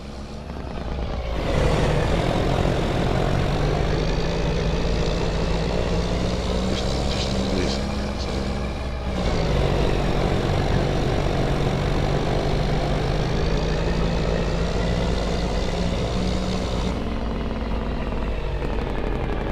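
An older truck rig's engine runs steadily in Farming Simulator 25, a loud, continuous droning idle that holds close for the whole stretch, with only slight shifts in pitch.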